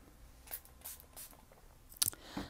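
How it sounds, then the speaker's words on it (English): Spray bottle misting water onto a watercolor painting of children playing soccer on a Spanish beach, a few quiet, short hissing bursts spaced apart, with one sharper spritz near the end. "And then again, spray it."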